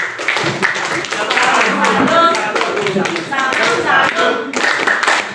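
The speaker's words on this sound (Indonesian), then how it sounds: "tepuk salut" Teachers at a school sharing session do a rhythmic salute clap for a fellow teacher, patterned group claps with voices chanting and talking alongside, fairly close and lively.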